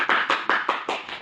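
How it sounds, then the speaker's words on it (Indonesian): Students in a classroom clap together in a quick steady rhythm for a student group, about six sharp, close, even hand claps with no talking. "Oke, beri tepuk tangan ya untuk kelompok 3"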